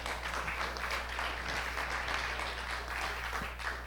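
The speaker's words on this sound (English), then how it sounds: "Big round of applause for Joseph." Steady applause from an audience, continuous clapping at moderate distance without a break.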